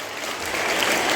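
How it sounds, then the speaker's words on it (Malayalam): An audience claps for dancers at an Ottanthullal performance, a short burst of dense, steady applause that swells slightly toward the end. "ആ ഡാൻസ് കളിക്കുന്നവർക്ക് ഒരു കൈയടി കൊടുത്തേ."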